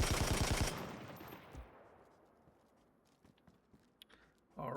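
A SCAR rifle fires a short rapid burst in the game DayZ, a loud cluster of sharp shots followed by a long fading echo and a few faint clicks and footsteps, ending with another loud burst.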